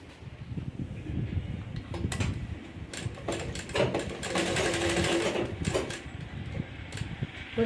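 A sewing machine stitches in steady mechanical bursts, starting and stopping several times at close range with no talk.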